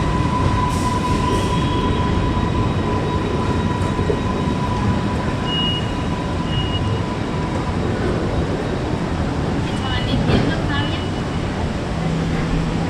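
A long train sits or rolls at a platform in Zurich Hauptbahnhof, a big indoor station. A steady, loud rumble of rail noise carries a faint high whine and a few brief squeals, and voices are heard under it.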